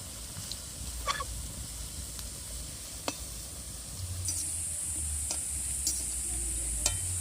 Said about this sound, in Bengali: একটু হালকা আঁচে ভাজবো, যাতে মুচমুচে হয়, তার জন্য আমি একটু খুব হালকা করে জ্বালান দিয়ে ধীরে ধীরে ভাজছি।